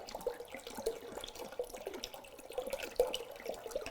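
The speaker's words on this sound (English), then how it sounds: "I want to see how fast can you get this water out of the bottle" Water glugs and splashes out of a plastic bottle held upside down without squeezing, an uneven trickling and gurgling run that goes on for several seconds, fairly faint and heard alone.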